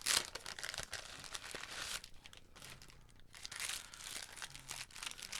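Paper crinkles and rustles close by as items are pulled out of a brown envelope, in uneven bursts of crisp handling with short pauses between them.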